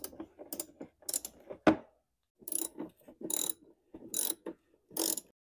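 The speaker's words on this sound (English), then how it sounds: "We have one, two 10 millimeter screws that I will be taking out now." A hand ratchet loosens 10 millimeter screws on a fourth-generation Toyota 4Runner's lower bumper, giving close, sharp bursts of clicking pawl strokes, each burst under a second, separated by brief pauses.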